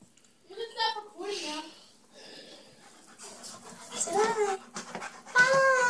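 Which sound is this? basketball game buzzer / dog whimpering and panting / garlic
dog whimpering and panting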